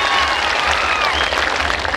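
Audience at the Phoolbari FM annual function in Tikapur, Nepal, gives a loud, dense burst of continuous applause with a light crowd murmur underneath.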